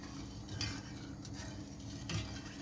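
Sugar and water being stirred in a pot, a steady low rumble with a few soft scraping clinks of the utensil at irregular moments, no talk.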